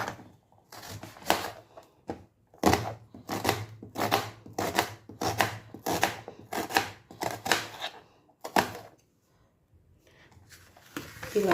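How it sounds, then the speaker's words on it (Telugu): A knife chops onions on a cutting board in a steady run of sharp, close knocks, pausing briefly near the middle and again near the end. "ఇట్లా నిలువుగా తరుక్కొని అన్నీ తోలు తీసేసి నీట్గా తేమ లేకుండా ఇలా తరుక్కోవాలి."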